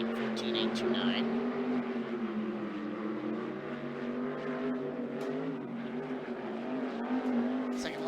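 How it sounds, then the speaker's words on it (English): A sportsman sprint car laps a race track, its engine a continuous distant roar that rises and falls as it circles, while an announcer talks over the PA throughout. "Second lap around for Garrell"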